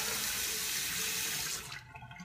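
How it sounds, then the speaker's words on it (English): Hot and cold tap water runs steadily into a sink as a razor and face are rinsed after a shave, a loud close hiss that cuts off near the end. "Now I'll rinse with hot and cold."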